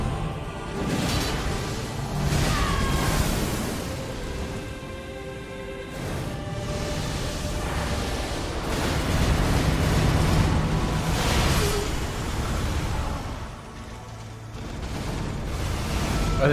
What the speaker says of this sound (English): the explosions in front of you, the first ones lock you into the big explosion afterwards